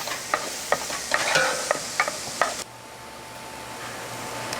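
Vegetables for braised country-style ribs sauté in a pan, with sharp spoon scrapes and stirring clatter over a sizzle that then settles into a steady, even frying hiss.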